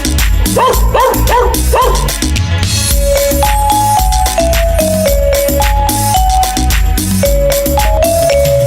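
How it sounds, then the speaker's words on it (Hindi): Barking in a Hindi children's song comes as a quick run of bark sounds in the first two seconds, followed by a bouncy, loud tune with a bright synth melody. "मुझे कुत्ते ने जगाया, बोला भाऊ भाऊ भाऊ"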